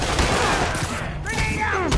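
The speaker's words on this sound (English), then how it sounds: "I'm getting reports of shots fired" Gunshots fire in the Spider-Man PS4 video game as a loud, steady rattle of repeated shots, with a character's voice heard over the top.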